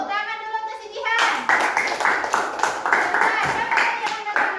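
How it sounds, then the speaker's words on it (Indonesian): A group of children in a classroom applauds together, a fast dense patter of hand claps lasting several seconds. It begins right after a teacher speaks and continues under a few voices. "Oke, tepuk tangannya."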